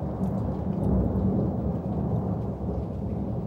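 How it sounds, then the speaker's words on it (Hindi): Thunder rolls in a continuous low rumble through steady rain, loud and close for the whole stretch, with no voices over it. "सॉरी, बादल गरज रहे हैं भाई"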